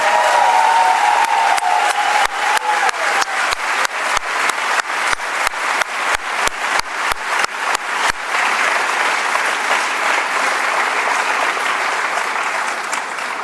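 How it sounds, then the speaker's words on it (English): A crowd applauds the graduates at the 2015 RSM MBA and EMBA graduation ceremony, a loud sustained wash of clapping, with a run of sharp rhythmic claps in the middle stretch before it eases off. "one more round of applause for them"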